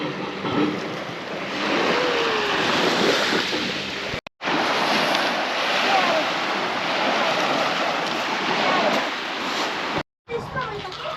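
Sea waves wash along a beach in Croatia near Split, heard from a bicycle riding along the shore as a steady, loud rushing mixed with wind buffeting the microphone, broken twice by brief dropouts.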